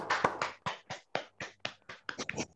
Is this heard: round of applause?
yes